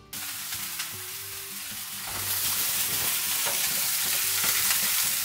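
Waffle burgers fry in a pan with a steady, full sizzle that grows louder and denser partway through, with faint scraping and clinks over it and no talk.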